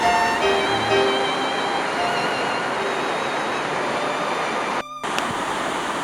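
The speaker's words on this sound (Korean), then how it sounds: "지금 이 다리 아래 물이 흐르는데 이 계곡이 그 유명한 천불동 계곡이다." A steady broadband rush of stream water flowing beneath a bridge in Cheonbuldong valley, continuous and fairly loud with no voices.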